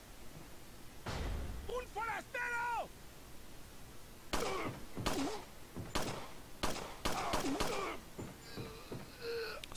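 Rapid gunfire from a gun in Resident Evil 4 comes as sharp, irregular bursts of cracking shots through the second half, after a brief stretch of voice, over a constant game backdrop.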